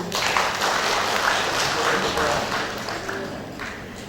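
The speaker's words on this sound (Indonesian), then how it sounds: "Tepuk tangan." Applause at an installation ceremony of regional women's association leaders in West Kalimantan, a steady dense wash of clapping from an indoor audience lasting throughout.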